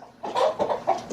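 Chickens clucking close by in a short, loud run of three or four throaty clucks, with no talk over them.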